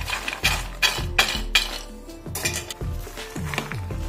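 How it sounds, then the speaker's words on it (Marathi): Raw peanuts being stirred into a thick batter in a bowl, with a spoon scraping and clinking against the bowl in several close, irregular strokes, no talking. "सगळं मिक्स करून घ्यायचं याला।"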